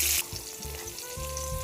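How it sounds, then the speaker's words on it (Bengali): Marinated katla fish frying in hot oil in a wok, a steady close sizzle and crackle with bubbling pulses, loud and continuous throughout. "মাছ ভাজা করে নেব।"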